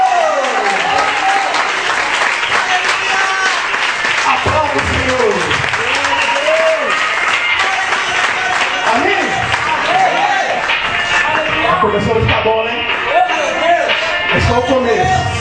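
Congregation at an evangelical church service in Barueri, Brazil, applauding in a dense, continuous wash of clapping while a voice calls out loudly over it throughout.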